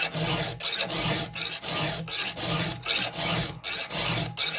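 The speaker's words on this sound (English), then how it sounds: "a lot of this filing that just went on, was gullet filing" A hand file rasps through the gullets of a Husky 2101 chainsaw chain in quick repeated strokes, about a dozen loud, close grinding passes with short pauses between them.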